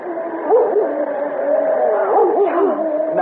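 Dog in a radio drama, heard on an old narrow-band recording as yips and whimpering barks with howling pitch swoops, repeated over a few seconds.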